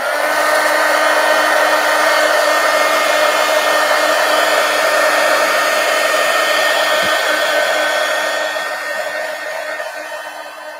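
A hair dryer runs steadily and loudly close by, drying paint on an art journal page, a continuous whine with a constant hum that eases slightly near the end.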